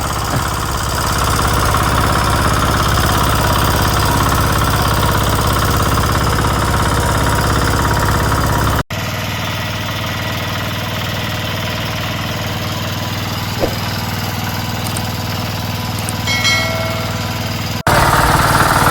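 A loud tractor engine chugs steadily and close, the drone continuing unbroken with only brief shifts in tone.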